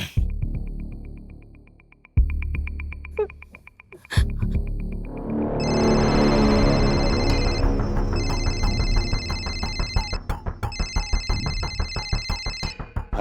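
A telephone rings inside a house, electronic repeating tones that start after a few sharp knocks and continue in regular bursts, fairly loud and close, with no talk over them.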